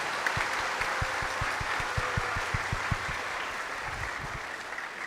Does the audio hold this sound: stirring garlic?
no